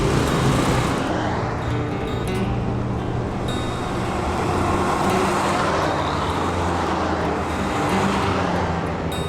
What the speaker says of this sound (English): This traffic sucks right now